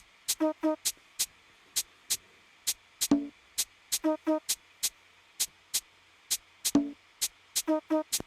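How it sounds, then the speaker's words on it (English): A steady percussion loop of sharp clicks and taps, with two short, low blasts of a conch shell sounding over the beat. "And on that, I added a conch shell as well"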